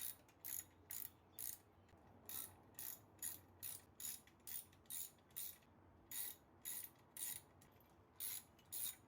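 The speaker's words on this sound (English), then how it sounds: "you can then begin tightening the bolts" Ratcheting clicks come from tightening bolts while a gearbox is fitted to a VW Mk1. About sixteen quick, close strokes repeat in a steady rhythm, alone with no talk.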